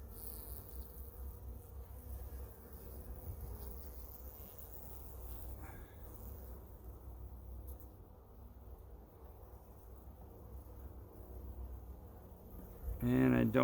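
Honeybees buzz during a beehive inspection, a low continuous hum of many bees close by, with the beekeeper talking quietly over it and brief handling noises toward the end.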